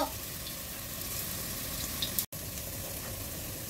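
Food fries in a pan over low heat, giving a steady, soft sizzle that continues evenly apart from one brief cut-out, with no one speaking.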